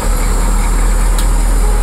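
AM General Humvee M998, custom-built, with its engine running at a steady loud idle, a constant low rumble and broadband hum filling the whole moment with no talk.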